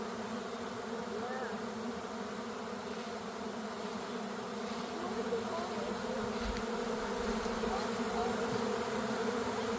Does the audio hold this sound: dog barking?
no